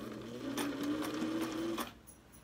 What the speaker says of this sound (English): When you're using this type of a sewing machine